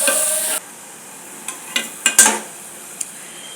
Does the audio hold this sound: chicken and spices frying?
yes